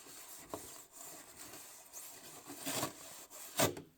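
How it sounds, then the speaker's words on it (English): Plastic X-Maxx RC car body scuffed with an abrasive before painting: several short, dry rasping strokes, close and moderately quiet, with a louder scrape near the end and no talking. "simply scuffing the surface to make it textured so the paint has something to grip to"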